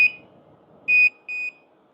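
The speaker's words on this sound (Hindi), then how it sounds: "ये अभी अपने आप बीप करेगा।" An automatic hair curler gives three sharp electronic beeps, one short and then two longer tones, loud and close in an otherwise quiet room.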